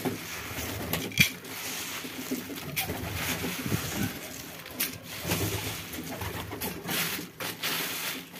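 Pigeons coo steadily in a coop at feeding time, with overlapping throaty calls close by, mixed with scattered clatters and flutters and no speech.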